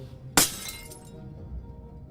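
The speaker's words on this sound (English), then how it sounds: "the frog sends the bottle spinning across his cell, where it shatters to pieces against the wall" A glass bottle smashes against a stone cell wall in the video game Ghost of a Tale: one sharp, bright shatter with a short tinkling tail of falling shards, then quiet room tone.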